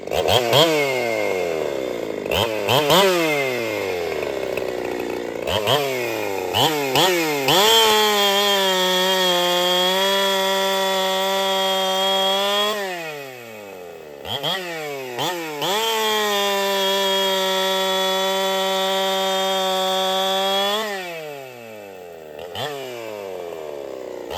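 A chainsaw fitted with a freshly sharpened chain being tuned for racing revs up and bites into wood in repeated long, loud cuts, its pitch dropping under load and rising again as it frees up between passes.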